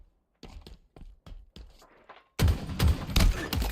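Gunshots in the video game Halo: a string of separate, evenly spaced shots rings out at first, then a loud, dense burst of rapid fire takes over toward the end.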